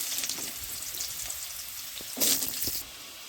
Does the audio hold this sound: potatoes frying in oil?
yes